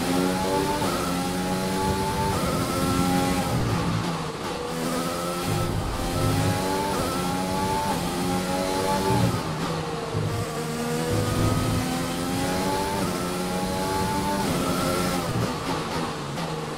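A race car engine in F1 2020 screams continuously on the final lap of the Russia race, its whining pitch rising and falling through gear changes, loud and steady without pause.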